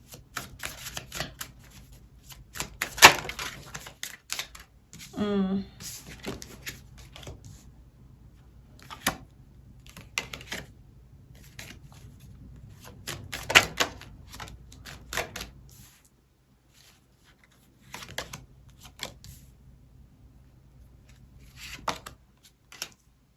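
Tarot cards are laid out one by one on a table, giving a series of quiet, sparse slaps and shuffles with short pauses between them and no talking.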